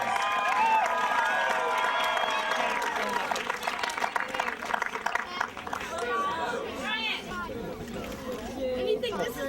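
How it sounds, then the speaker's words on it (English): A crowd at a youth baseball game applauds and cheers loudly for the winning team, clapping and chatter blending into a steady roar that thins slightly toward the end. "Big round of applause for the Retro Padres."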